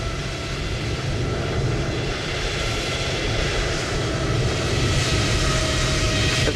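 A DHL cargo jet on final approach to runway 32 left at Toulouse in Microsoft Flight Simulator 2020, with a steady, loud, broadband engine roar and whine holding evenly throughout.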